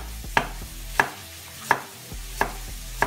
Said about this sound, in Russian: Нарезаю все крупно.